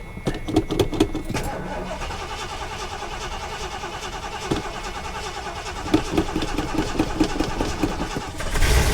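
A Lincoln car on a salvage auction lot cranks and catches, settling into a steady, close idle with a few sharp clicks at first and a brief rev near the end.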